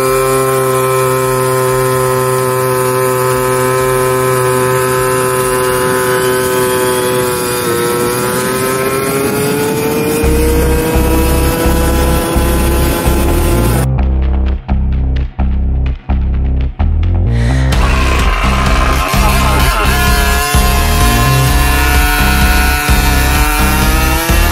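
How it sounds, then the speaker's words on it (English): A 2002 to 2008 KTM 50 dirt bike with a rebuilt clutch revs loudly, its whining two-stroke pitch climbing, then cutting out briefly before a sharp sputtering surge and a rising screaming rev as it takes off. "the RPM is going to start climbing, and then the bike's gonna take off because it just hits the power band finally"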